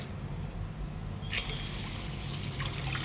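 Sago pearls are rinsed in water in a pot, sloshing and trickling as they are stirred, a steady close liquid swirl with no voices.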